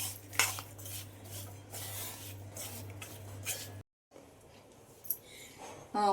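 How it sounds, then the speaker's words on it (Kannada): Puliyogare spice powder being mixed into hot tempering in a pan, with a spoon scraping and clinking against the metal in steady strokes, a low hum beneath, then a brief pause and lighter clatter. "ಈಗ ಈ ಪುಡಿನ ಈ ಒಗ್ಗರಣೆಗೆ ಸೇರಿಸ್ಕೊಂಡ್ಬಿಡೋಣ ಸ್ವಲ್ಪ ಸ್ವಲ್ಪವಾಗಿ ಮಿಕ್ಸ್ ಮಾಡಿಕೊಂಡು"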